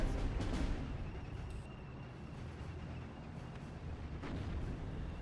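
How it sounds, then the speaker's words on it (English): Distant rumbling artillery and scattered machine gun fire across a World War II strategy game battlefield, a low, steady wash of booms and crackle at moderate to faint loudness with no voices. "I've got no response to the ranged artillery and machine gun fire that's shredding my infantry in the centre"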